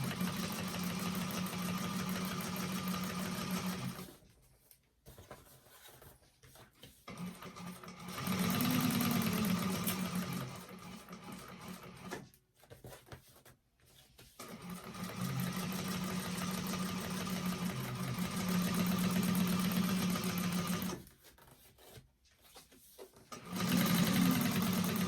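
A sewing machine stitches a long handbag seam in steady, fast whirring runs, pausing briefly between bursts while the fabric is adjusted; close and clear with no talk.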